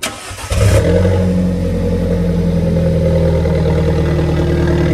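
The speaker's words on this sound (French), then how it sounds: "le cold start qui fait plaisir. C'est tellement loud." A V8 car engine cold start: it cranks and fires, then settles into a loud, steady high idle with a rough mechanical drone, close by.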